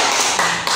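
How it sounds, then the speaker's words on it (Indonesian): Brief applause for a participant at a workplace socialization session, a burst of group clapping that fills the moment and stays fairly loud throughout. "tepuk tangan buat Bapak"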